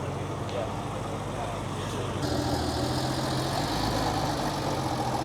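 A Porsche Boxster idles steadily at a cars and coffee meet, then its engine note thickens and grows slightly louder as it starts to pull away, close by with faint crowd noise behind.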